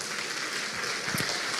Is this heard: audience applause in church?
yes